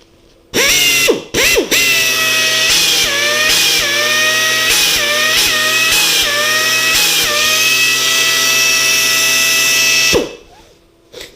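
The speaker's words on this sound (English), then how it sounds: "I think my air drill's broken." A loud, faulty air drill runs for about ten seconds during a classic Mini restoration, its high whine dipping repeatedly under load before cutting off abruptly.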